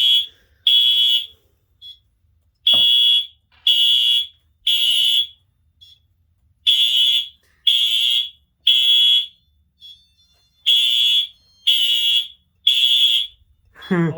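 Building fire alarm sounding during a system test, loud repeated high-pitched electronic tones in an irregular on-off pattern of roughly one-second bursts, close by, with a sharp click and a brief human voice near the end.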